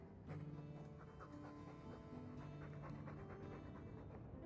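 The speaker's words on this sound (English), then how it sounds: "All that noisy dog breath, day in, day out, make him stop." A dog pants steadily indoors in a stuffy room, quick rhythmic breaths repeating close and clear with faint tonal background hum, no voices over it.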